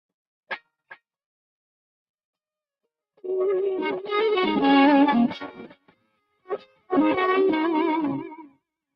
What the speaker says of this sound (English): Dude, that's a cool little amp. Those things are great. They sound great for what they are, for a little amp.